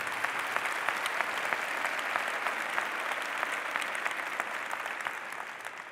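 Steady, loud applause from an audience at a memorial celebration of life, many hands clapping densely and continuously without letting up.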